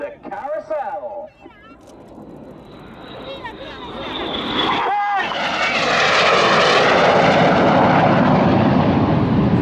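Aerobatic jets fly a carousel manoeuvre at the Yeovilton Air Day airshow. A commentator's voice comes first, then the jet roar builds from faint to a loud, sustained, sweeping rush as the aircraft pass close overhead.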